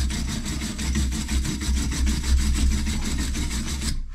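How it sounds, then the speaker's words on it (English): A wire brush scrubs a valve gasket surface while a pressure reducing valve is replaced, giving a steady, close, continuous rasping scrape with rapid even strokes, alone with no talk, stopping abruptly at the end. "I'm just going to take a wire brush."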